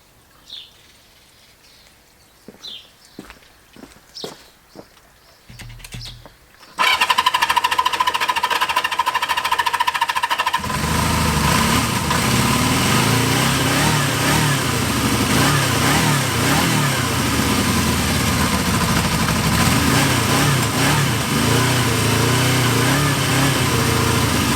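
After some faint clicks and fumbling, a Kawasaki KZ650 motorcycle engine with freshly cleaned carburetors suddenly fires up and keeps running loudly and steadily, a rough, busy mechanical clatter.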